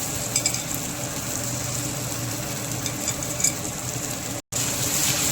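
Flattened rice (poha) is tipped into a pan of spices frying with turmeric and coriander powder for kanda poha. A continuous dense sizzle runs throughout, broken by one brief dropout near the end, with no voices.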